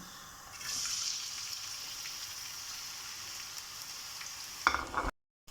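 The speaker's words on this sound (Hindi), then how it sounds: "ऑयल हमारा गर्म हो गया। अब हम इसमें डालेंगे प्याज" Onions dropped into hot oil for an aloo palak gosht: a faint background sizzle swells into a steady frying hiss, with a brief louder crackle just before it cuts to silence.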